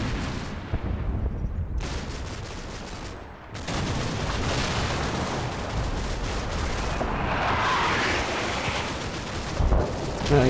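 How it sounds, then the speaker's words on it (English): Artillery spotting rounds land in the WWII Normandy game Combat Mission, a sustained run of heavy, rumbling booms and crashes with a brief lull partway through. "I think it's our spot rounds coming in."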